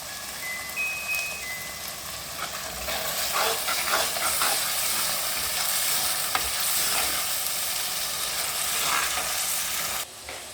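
Masala for mutton kheema curry frying and stirred in a pan, a steady close sizzle and hiss with scraping stir sounds, no talking.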